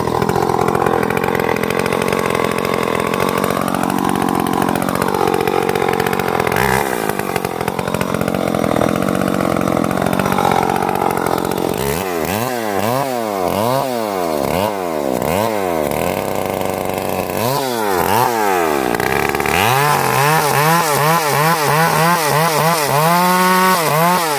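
A chainsaw runs loudly up close, engine pitch swooping up and down as it revs and bites into wood in repeated cutting bursts.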